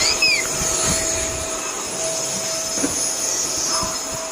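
A vacuum cleaner drones on in a steady, fairly loud whine with little change, with a few faint knocks and movements underneath.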